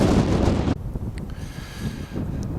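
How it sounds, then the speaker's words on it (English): Strong wind gusts against the microphone on an open prairie trail, giving a loud, close rumble at first. The gust then drops to a softer, steady outdoor rush. "Wind is probably brutal."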